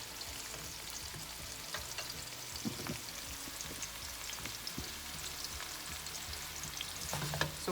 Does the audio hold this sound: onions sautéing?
yes